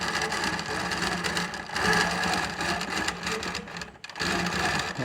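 A Q'nique longarm quilting machine on a Q-Zone frame stitching with a steady, busy mechanical whir and rapid needle chatter, running continuously with one brief pause near the end.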